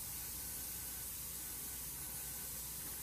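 An H&S Infinity airbrush with a 0.2 tip sprays paint in a steady, continuous airy hiss, close and unbroken, with no other sounds.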